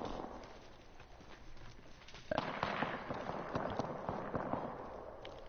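Gunfire crackles in the Apex Legends battle royale shooter, a fast run of muffled pops and bursts at middle distance over steady game background noise.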